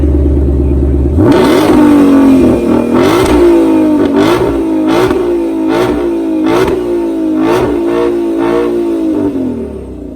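A 2020 base Shelby GT500 engine cranks and roars to life, then revs repeatedly in loud, rhythmic bursts before settling into a rumbling idle.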